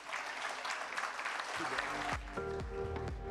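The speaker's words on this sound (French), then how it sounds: "Vraiment, vous pouvez les applaudir." Applause for the participants at the close of a debate on youth engagement, a moderate round of clapping that thins out as music with a clear tonal melody enters.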